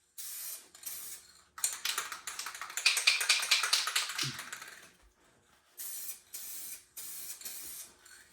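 Rattle-can spray paint hisses from an aerosol can onto a 2009 Sierra pickup, in several bursts of varying length separated by short pauses, with a faint rattle and tapping between sprays and no talk.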